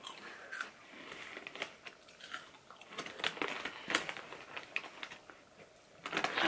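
Close, quiet crunching of a crispy yet soft squid snack being chewed, irregular bites and clicks spread across the clip with faint talk nearby.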